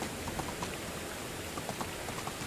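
Steady rain in the video game Medieval Dynasty falls as a constant dense hiss, with scattered droplet taps over the wash and no voices.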